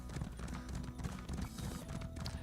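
Horse hooves clip-clop steadily in the Cyrodiil setting of an online fantasy game, the horse in bad shape, a continuous close rhythm layered with game ambience and no talk.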